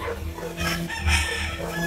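A one-year-old fighting rooster, a dirty pit, crows and clucks close by, loud, throaty calls layered over a busy backyard farmyard background.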